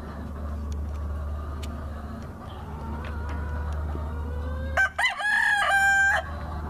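A game fowl rooster crows loudly near the end over a steady low rumble of background noise, with faint clucks earlier.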